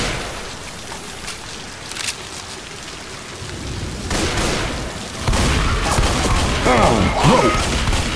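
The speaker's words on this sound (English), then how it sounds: "Rain's really coming down." Heavy rain pours steadily in Left 4 Dead 2, with deep thunder booms and crashes rolling in around midway and swelling louder toward the end, over a dense hiss of rainfall.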